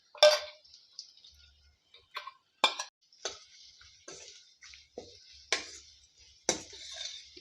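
Spoon stirring rasam powder into fried onions in a cooking pan, giving a series of soft, close scrapes and light clinks at irregular intervals with quiet pauses between.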